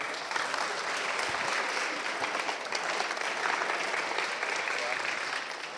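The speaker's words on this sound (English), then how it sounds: "very well-deserved round of applause for these guys" Sustained audience applause for presenters at a 3D printing festival stand, a thick continuous roar of clapping from a crowd, loud and even throughout with voices mixed faintly underneath.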